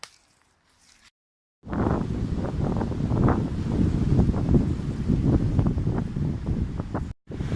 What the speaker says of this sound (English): it's really windy, sorry about this